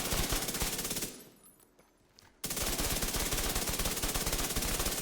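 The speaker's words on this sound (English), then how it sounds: "you can hear the different fire rates this gun has depending on the reload" Rapid automatic gunfire from a gun in the video game Division 2, a loud stream of fast shots cut by a short reload pause with mechanical clicks, then resuming at a different fire rate.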